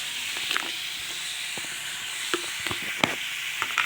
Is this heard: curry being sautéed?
yes